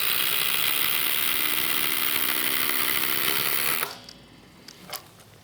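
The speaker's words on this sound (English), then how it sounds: "driving into wood with a Fasten Master ledger lock" Impact drivers, including a DeWalt, driving Fasten Master ledger lock screws into wood: a loud, steady high whine with rapid hammering runs for almost four seconds, then cuts off, followed by a few faint clicks.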